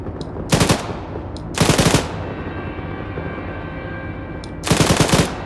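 A machine gun fires in the Band of Brothers video game in three loud, close bursts, each about a third of a second long, separated by quieter ambient background.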